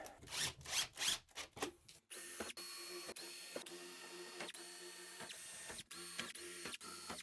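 A cordless drill bores 1/8-inch pilot holes and drives galvanized screws during a jacuzzi tub installation. Short rasping bursts give way to a steady motor whine broken by clicks and brief stops, close and fairly quiet.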